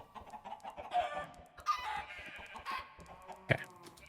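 Several chickens cluck and squawk on a Minecraft farm, with fairly quiet, irregular bursts and one sharper squawk near the end against low game ambience.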